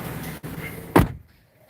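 A 2021 Jeep Grand Cherokee L door locks with a sharp, close mechanical thunk after a soft click, followed by quiet.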